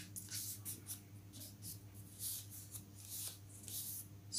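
Paper being folded in half for a snowflake craft, giving soft, close rustling and creasing sounds in several short bursts over a low steady hum.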